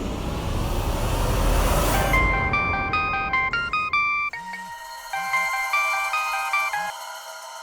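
A loud melodic ringtone plays a bright electronic tune, rising over a brief rushing noise and then repeating its chiming pattern.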